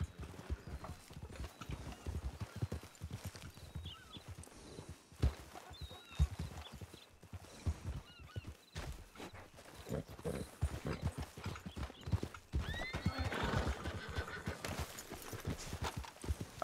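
Horses in a Project 1920 roleplay game clip-clop at a steady trot with scattered whinnies and neighs, the hoofbeats dense and close throughout and growing busier toward the end.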